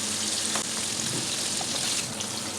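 Chicken wings fry in a shallow layer of hot oil, producing a dense, continuous bubbling sizzle that stays close and even throughout with no voices.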